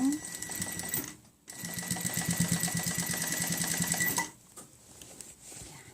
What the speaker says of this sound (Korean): 자 당기고 꾹 눌러서 박음질 하세요